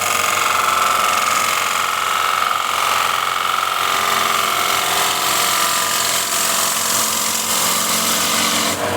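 Bowl gouge cutting a thin wooden bowl spinning on a lathe, a loud, continuous, harsh scraping hiss with a steady mechanical hum running unbroken throughout.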